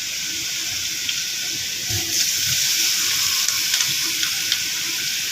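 Fish heads and pieces dropped into spices frying in a pan for a bottle gourd fish-head curry, giving a steady broadband sizzle with a few louder crackling bursts, close and continuous, no talk.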